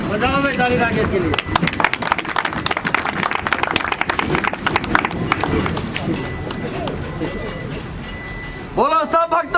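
A crowd at a community gathering for a water pipeline project claps in a dense burst of rapid, sharp hand claps lasting several seconds, with voices chanting before and after the applause.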